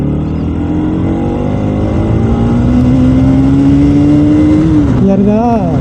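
A Bajaj Pulsar NS200 motorcycle engine revs hard at high RPM, its loud whine climbing steadily in pitch for several seconds before the throttle drops and picks up again, heard up close with wind and road noise.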